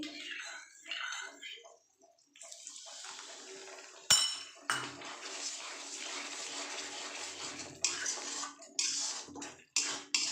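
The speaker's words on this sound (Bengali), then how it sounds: "বাটিটা একটু ধুয়ে অল্প জল দিয়ে দিচ্ছি খুব সামান্য এখন জল দিচ্ছি" A little water is poured from a freshly washed bowl into a vegetarian matar paneer in a home kitchen, splashing in short spurts between clinks of a bowl and utensils, close and fairly quiet.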